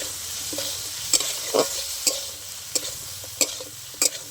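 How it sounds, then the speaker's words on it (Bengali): Masala with Kashmiri chilli powder sizzling in oil as a spoon scrapes the pan, soft steady frying hiss punctuated by about seven sharp rhythmic stirring clinks, close up. "এবারে ওর মধ্যে 1 চামচ কাশ্মীরি লঙ্কার গুঁড়ো দিয়ে দিচ্ছি। আরও একটু কষিয়ে নিচ্ছি।"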